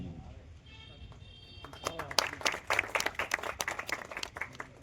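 An audience claps at a community get-together in Palanpur, with a burst of dense applause breaking out after a couple of seconds and continuing loudly, following a moment of a man's speech.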